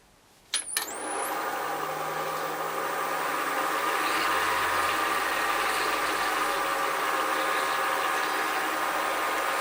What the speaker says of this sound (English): I'm going to present the edge here and just do a simple push-pull cut